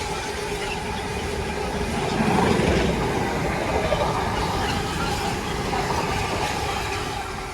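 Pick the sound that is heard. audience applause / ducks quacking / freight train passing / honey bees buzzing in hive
freight train passing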